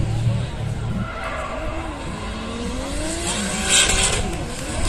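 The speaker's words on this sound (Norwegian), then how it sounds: "Europabilen Toyota GT86'en kommer oppover her nå med Supra-motor." Toyota GT86 fitted with a Supra engine drifts at a street car event, its tires skidding and squealing in a long smeared wail over engine noise, with voices talking over it.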